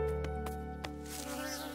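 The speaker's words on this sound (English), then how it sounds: "Then we buzz, buzz," A cartoon bee buzzes steadily and fairly close throughout, the drone warbling and rising slightly toward the end, with no talking over it.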